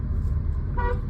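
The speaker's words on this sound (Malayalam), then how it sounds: "അവര് ഹോൺ അടിച്ചു" A car horn gives a single short toot near the end, close by, over steady low traffic rumble while driving in Kayamkulam, Kerala.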